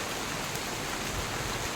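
Steady rain falls outdoors where children play, giving an even, continuous hiss of drops with no pauses or voices over its short span.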